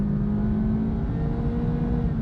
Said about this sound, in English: Even though this is a 4-cylinder, you do get a better noise from the engine than you do on the Honda Fit.